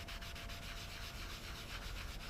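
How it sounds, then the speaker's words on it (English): A cloth rag rubs wood stain off a wooden surface in quick, steady swirling strokes, producing a soft, continuous scrubbing hiss heard up close and alone. "I want to rub as much of this stain off as I can"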